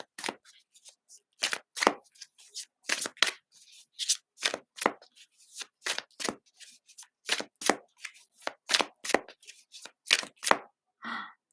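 Tarot cards being shuffled by hand, a series of crisp riffling bursts in an uneven rhythm, close and fairly quiet, with short silent gaps between each shuffle.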